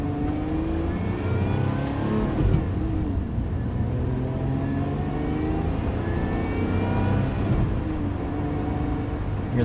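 2024 Lotus Emira engine revving with an Edelbrock supercharger whine, a steady droning engine note with rising and falling whine, moderately loud and continuous with no talk.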